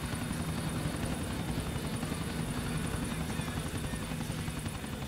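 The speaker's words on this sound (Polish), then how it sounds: "nie lubię w GTA 4 latać helikopterami" A helicopter flies in the video game Grand Theft Auto IV, a constant loud rotor drone with steady chopping throb that fills the whole stretch without letup.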